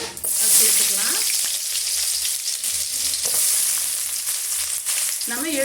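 Spices crackle and hiss steadily in hot oil for chicken gravy, a close, continuous sizzle with occasional stirring scrapes and no talking.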